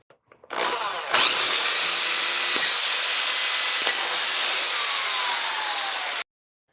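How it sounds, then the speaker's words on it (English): A power drill bores a 9/32 hole through PVC pipe using a Big Gator Tools V-DrillGuide, a steady loud whirring grind lasting several seconds after a few brief clicks, then stopping abruptly. "we're going to drill a 9/32 hole through this PVC pipe here"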